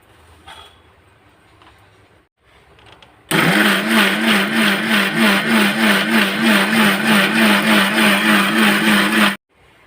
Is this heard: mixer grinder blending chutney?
yes